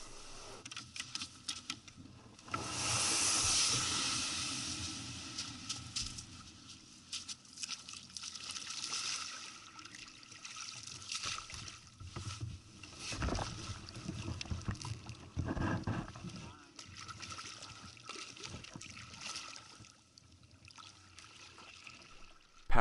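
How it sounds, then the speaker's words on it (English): A kayak paddles out a channel through reefs off the north side of a tombolo in Dixon Entrance. Water sloshes and trickles softly with each stroke, with a few louder splashes and knocks, steady and close by. "Paddling out the channel through the reefs to the north"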